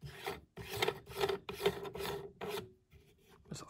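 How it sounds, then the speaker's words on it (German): A suction strainer with a union nut is screwed by hand onto a pump, giving a series of short rasping, scraping turns in a steady rhythm, close and quiet, with no talking. "nehmen wir den Saugkorb mit der Überwurfmutter hier und schrauben ihn einfach drauf"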